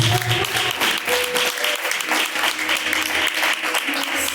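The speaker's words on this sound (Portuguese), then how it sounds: "As palmas de novo que agradecem a Deus." A church congregation claps in thanks to God, loud and close, the clapping pulsing in a rough rhythm throughout with faint voices beneath.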